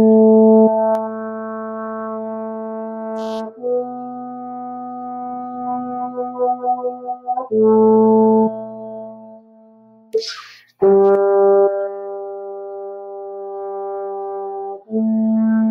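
A trombone warm-up of long sustained whole notes, each held several seconds and changing pitch in a slow sequence, played close and clear with a short breath break between phrases.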